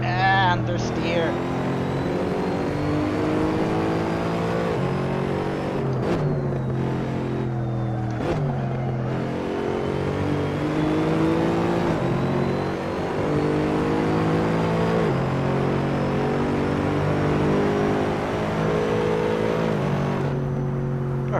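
A car engine in a racing video game holds a steady, droning roar throughout, rising and falling in pitch through gear changes, with a few sharp shifts and talk over it.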